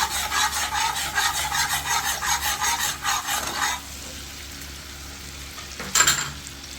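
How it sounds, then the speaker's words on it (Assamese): Salt being stirred into a fish marinade in a bowl, with rhythmic scraping and rubbing strokes close up for about four seconds, then stopping, followed by a brief clink near the end. "এইখিনি ভালকৈ মিক্স কৰি ল'লোঁ"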